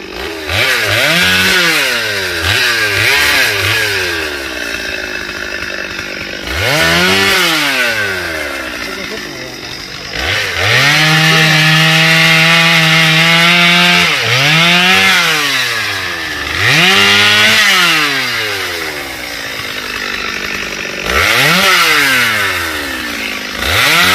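A chainsaw cutting into a large rain tree, the engine rising and falling in repeated loud revs as it bites and eases off, close by, with occasional voices underneath.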